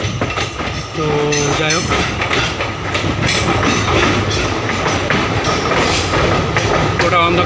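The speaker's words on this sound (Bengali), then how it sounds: "এটা একটা পাহাড়ের ভেতরে ট্রেনটা প্রবেশ করবে গুহা পথ দিয়ে" A train rolls through hill country near Haflong, Assam, toward a tunnel, with loud, close clatter and rumble of wagons and a brief squeal or horn early on, while someone talks over it.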